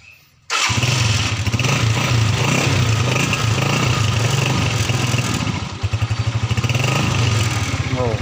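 Honda TMX 125 motorcycle engine firing up on a single start after silence, then running loudly with a steady, rapid putter that turns more pulsed toward the end.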